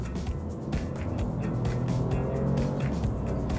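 Alfa Romeo Junior car accelerating on the road, heard as a continuous low engine and road drone that gradually builds in loudness, with tyre and wind noise layered on top.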